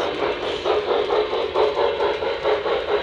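A Lionmaster model train's small motor whirs with a rhythmic clicking pulse as wheels roll over track joints, close and steady throughout.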